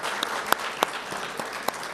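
An audience applauds the members of a conference panel in Turkey, with steady close clapping and a few sharp individual claps standing out in the brief burst.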